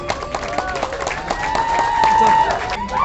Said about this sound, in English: can we support them with a round of applause